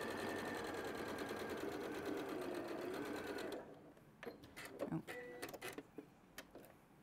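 A sewing machine stitches through several quilt layers for quilt-as-you-go work in a sewing studio, running steadily and fairly loud for about three and a half seconds, then stopping and giving way to quieter clicks and handling sounds.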